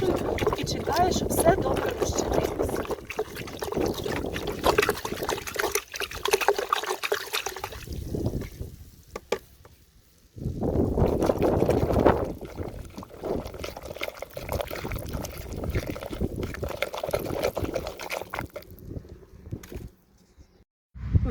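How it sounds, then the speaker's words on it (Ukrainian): Water sloshes and swirls steadily as copper sulfate and lime are stirred into hot water in a container, close and continuous, with someone talking over it and brief pauses. "А сюди я висипала мідний купорус. Все гарно перемішую."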